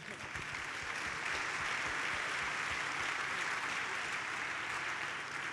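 An audience at a network meeting gives dense, steady applause that fills the room at moderate loudness, with a voice faintly talking underneath.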